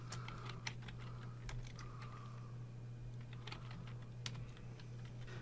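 Typing HTML code on a computer keyboard, a steady run of quick, light key clicks at close range with a constant low hum underneath and no talking.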